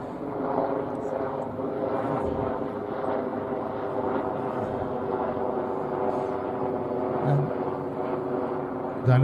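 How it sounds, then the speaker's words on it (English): A rescue or police helicopter drones overhead during a cricket match in Australia, a steady low rotor and engine hum running continuously at moderate distance with no clear talk over it. "I don't know if that's the constabulary or someone, or the rescue helicopter flying overhead."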